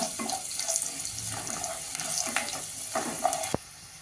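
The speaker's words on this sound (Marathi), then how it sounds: "हिंग थोडस परतून घेऊया" Asafoetida sizzles in hot oil for a guava pickle, a close hiss and crackle with a few sharp spatters and a clack near the end, no speech.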